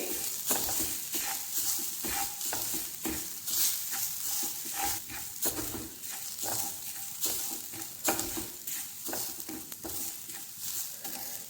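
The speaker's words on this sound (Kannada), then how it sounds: "ಇದು ತೆಂಗಿನ ತುರಿ ಪಸೆ ಬಿಡೋ ತನಕ ಈ ಥರ ಹುರ್ಕೋಬೇಕು" Grated coconut roasts in a pan while a spoon stirs it, producing a soft, continuous sizzle broken by frequent close scraping and clinking strokes against the pan, with no voices.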